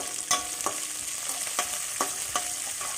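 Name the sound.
vegetables being sautéed and stirred in a pan for aval upma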